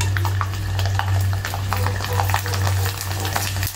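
Small discs of sago (javvarisi) vathal frying in a pan of plenty of hot oil, giving a steady close bubbling sizzle with scattered crackles and a low hum underneath, without talk.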